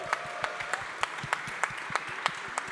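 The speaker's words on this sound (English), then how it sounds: "how about like a really big round of applause for Staking Rewards for putting this together" Scattered, sparse clapping from a summit audience, with steady, rhythmic individual claps over a faint room hum.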